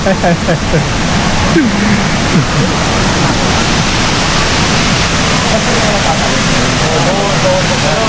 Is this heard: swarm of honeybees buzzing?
no